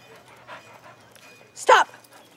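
A small puppy pants softly, then gives a brief, sharp whimper near the end, close by and alone after a quiet stretch.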